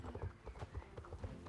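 Horse hooves clip-clopping in the video game Star Stable, a quick, soft, regular trotting rhythm of light hoof falls, fairly quiet and close.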